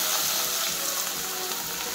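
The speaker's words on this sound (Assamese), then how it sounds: "এতিয়া মাছ ভজা তেলখিনিতো ঢেৰ থাকিলে, এইখিনি তেলতে মই এতিয়া পিঁয়াজখিনি দি দিম।" Onions frying in leftover oil from frying fish: a dense, continuous hiss and crackle of hot oil, close and fairly loud, with no voices.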